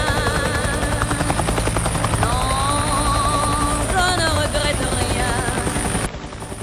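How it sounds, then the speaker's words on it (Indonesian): A loud helicopter arriving at an outdoor engagement party in a TV drama drones continuously with a throbbing rotor beat, then cuts off abruptly near the end. "Tiba-tiba datang helikopter yang memporak-porandakan acara pertunangan karena angin yang ditimbulkan dari baling-balingnya."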